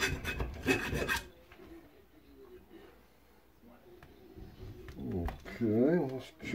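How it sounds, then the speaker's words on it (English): A metal file rasps across a burr on a front disc brake part from a 1969 Ford Mustang. A few short scraping strokes come near and between bursts of someone talking. "So I'm going to take a file"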